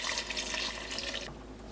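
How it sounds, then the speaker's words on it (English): Water pours steadily into a cooking pot for a beef picadillo, a bright, splashing stream that fills the moment and then cuts off abruptly, leaving a quiet tail. "Y a esto le agregamos 10 tazas de agua."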